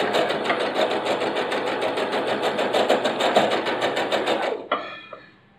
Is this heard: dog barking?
no